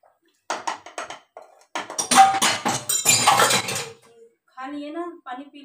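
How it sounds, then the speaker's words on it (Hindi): Metal kitchen utensils and dishes being lifted and banged down, a burst of loud close clattering clanks followed by a brief pause and fainter ringing metallic knocks. "कैसे उठा के पटक रहे हैं बर्तन।"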